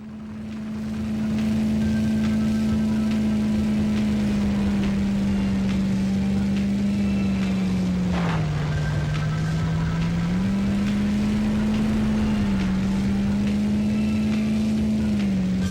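Steady, loud car engine drone from the 1999 Nintendo 64 racing game Beetle Adventure Racing, holding a constant pitch with a brief dip and recovery midway, continuous and alone without talk.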